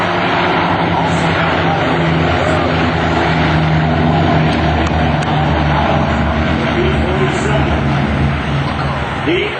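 A P-47 warbird's radial piston engine drones loud and close, a heavy steady roar with propeller beat that holds throughout, at an air show gathering of vintage Mustangs and other warbirds.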